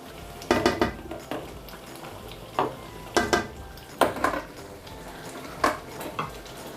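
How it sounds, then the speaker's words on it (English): Egusi soup being stirred in a pot, a spoon scraping and knocking against the pot in several separate bursts with quiet pauses between, close and fairly soft. "I'm just going to stir it."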